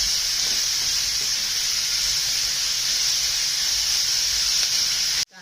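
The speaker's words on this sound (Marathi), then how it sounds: "भरपूर असा कांदा टाकायचा कांदा कांदा परतून घ्यायचा" Chopped onions, two large ones, sizzling steadily in hot oil as they are sautéed in a pan for prawn masala, a continuous bright hiss that cuts off abruptly at the end.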